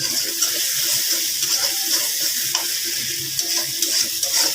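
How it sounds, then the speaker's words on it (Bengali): Fish sautéed in a pan on a home stove gives a continuous bright sizzle with scattered crackles and stirring scrapes, close and steady, no voices over it. "এখন এটাকে মাছ দিয়ে দেব এটা কষিয়ে নিই কিছুক্ষণ"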